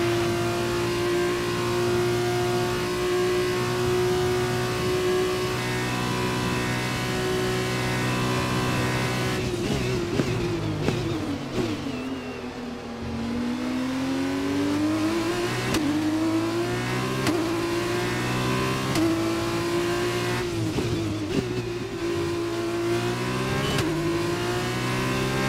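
An F1 race car in the F1 2021 video game, its high-pitched engine whining loudly and steadily throughout, dipping and climbing through gear changes as it accelerates back up to speed, with no talking.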